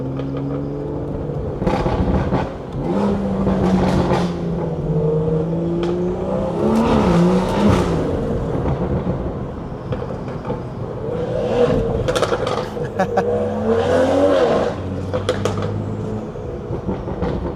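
A car with a BMW B58 engine revving and accelerating hard in a built-up area, loud droning engine pulls that swell and fade over the stretch, with no talking.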